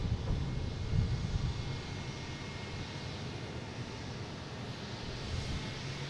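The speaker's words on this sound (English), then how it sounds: "Next taking off is a Delta." Delta Embraer E175 airliner taking off from Boston Logan, heard as a low, steady engine rumble at a distance, fairly faint and slightly louder near the start, with no talk.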